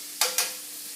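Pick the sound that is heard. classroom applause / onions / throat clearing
onions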